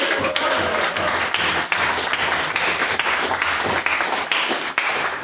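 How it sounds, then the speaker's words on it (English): Audience applause at a debate: loud, sustained clapping from a large crowd, close and dense, with a few sharper individual claps rising out of the steady roar. "Let's posthumously give Miss Carberry O'Neill a big round of applause"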